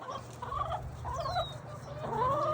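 Backyard hens from a new owner's small flock cluck and call in short bursts, with several birds vocalizing at moderate distance over a low steady background hum.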